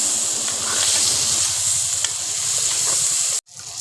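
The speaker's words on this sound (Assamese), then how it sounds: "তাৰপিছতে গৰম কৰা তেলত এনেকৈ মই মাংসখিনি ভাজি দিলোঁ" Chicken meat frying in hot oil with salt, chili, turmeric and ground coriander, giving a steady loud sizzle with scraping stir strokes throughout, briefly cut off near the end before resuming.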